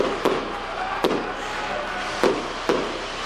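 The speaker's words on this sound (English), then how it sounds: "out onto the field, accompanied by fireworks and steam" Fireworks go off at a rugby league stadium during a Featherstone versus Hull KR match, four sharp bangs spaced irregularly over a constant wash of crowd noise.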